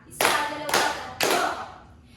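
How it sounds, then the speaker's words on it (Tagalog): An audience gives three distinct, evenly spaced group claps, each one a sharp crisp burst followed by a brief fading tail, with nothing else heard around them. "Bigyan natin na 3 palakpak si Binibining Burnea."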